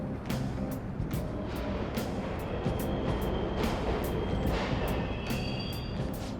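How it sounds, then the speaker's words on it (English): Subway trains run in the Persona 5 Royal video game, a constant loud rumble of wheels and carriages with repeated metallic clacks and a faint high squeal over it. "The trains are totally running!"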